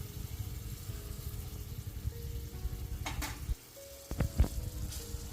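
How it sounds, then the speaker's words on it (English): Small pieces of mango with juices and spice masalas tipped onto fried onions in a pan, a low steady sizzle throughout with a few brief clinks of a utensil near the end. "let's add the mangoes along with the juices and the masalas that we had kept aside earlier"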